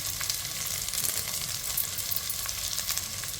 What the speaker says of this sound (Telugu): ఇప్పుడు ఈ ఉల్లిపాయ ముక్కల్ని జస్ట్ 1 నిమిషం ఫ్రై చేసుకుంటే సరిపోతుంది.